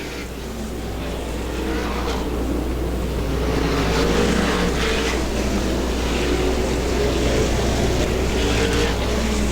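Sprint car engines roar at Butler Motor Speedway during dirt-track qualifiers, a loud continuous drone with rising and falling engine pitch from several cars, heavy low rumble throughout.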